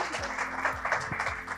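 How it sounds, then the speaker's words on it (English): A book-talk audience gives a brief, faint round of applause, a soft patter of clapping hands heard from a distance in the room. "So let's give him a hand, some applause."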